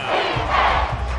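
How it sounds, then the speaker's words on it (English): A roaring stadium crowd in the Madden 24 football video game, a sustained loud swell of cheering and yelling in the fourth quarter that peaks midway and holds steady, with no talk over it. "This crowd turning up the decibel level."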